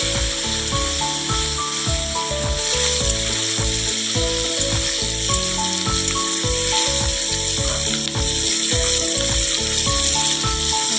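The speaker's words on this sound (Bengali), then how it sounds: "একটু লাল করে হালকা ভেজে নেব" Paneer and capsicum pieces lightly frying in a pan, a continuous close hissing sizzle that runs throughout beneath a layer of steady tonal background music, with no speech.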